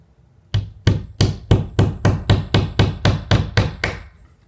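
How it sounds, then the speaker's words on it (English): Hammer drives a finishing nail into wooden interior door casing with eleven evenly spaced, sharp, loud blows, close by, with no talking. "I'm going to put up a finishing nail to help me"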